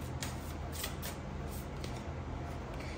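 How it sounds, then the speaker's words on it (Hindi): Tarot cards are drawn and shuffled from a deck, producing soft, close papery riffles and flicks in short bursts over a faint steady background hum, with no talking. "हम 1-2 कार्ड्स इस डेक से भी लेते हैं।"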